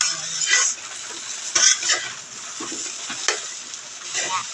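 Fried rice sizzling in a pan while a utensil stirs and scrapes it in irregular strokes, close and moderately loud, with occasional metallic clinks.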